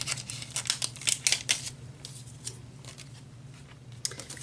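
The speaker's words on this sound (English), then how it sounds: "my puffy stickers that I'm going to go ahead and take out of the package" Puffy scrapbooking stickers are pulled from their plastic package, giving close bursts of crinkling and crackling that ease off partway through over a low steady hum. No talking.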